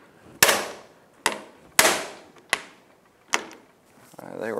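An impact driver hammers at rusted Phillips screws on the brake master cylinder reservoir of a Honda Rancher 350 ATV, five sharp, loud rattling bursts separated by short pauses, followed by faint voice-like sounds at the end.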